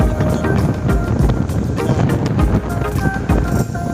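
Strong wind buffets the microphone in heavy, rumbling gusts, loud and continuous with rough low-end roar.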